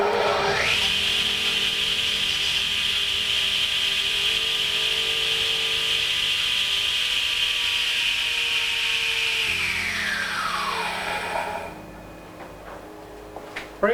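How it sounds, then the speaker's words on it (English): A restored 2 hp Dewalt radial arm saw, a barn find, runs with its blade fitted, holding a steady loud whine near at hand before spinning down to quiet. "What I want to do is run it with the blade on, make sure the blade is not out of balance in any way."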